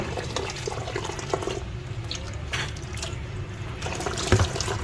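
Sweet potato leaves are rinsed under running tap water in a kitchen sink, a steady close splashing and trickling with light handling sounds throughout.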